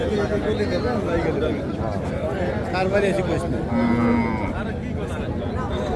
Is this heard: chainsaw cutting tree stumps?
no